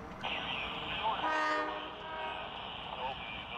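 Norfolk Southern freight train 40N06 rolls past in Ohio, a steady broadband rumble with a horn-like tone swelling briefly midway, heard from a moderate distance.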